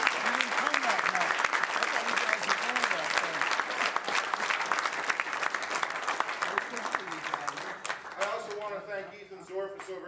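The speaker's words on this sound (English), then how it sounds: "I want to give them a great round of applause." Audience applause at a politician's election night victory speech, a loud sustained wave of many hands clapping, thinning near the end as a voice returns.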